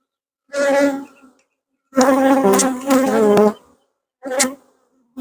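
Honeybees buzz close by at an open hive while a frame is inspected, the comb showing capped drone brood cells. Three loud, high-pitched buzzing bursts rise and fall, separated by brief silences, with no voices.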